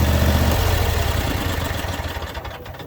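A Troy-Bilt zero-turn mower with steering-wheel control sits parked while its engine idles down, a steady low rumble that loosens into a slower, pulsing chug and softens toward the end.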